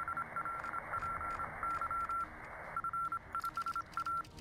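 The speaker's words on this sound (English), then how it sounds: "Pick up the phone, quickly!" Rapid telephone dialing tones from a naval war strategy game, clear beeping pulses in quick uneven sequences over a steady background hiss, loud and close.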